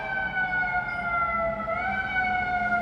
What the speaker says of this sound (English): I have sirens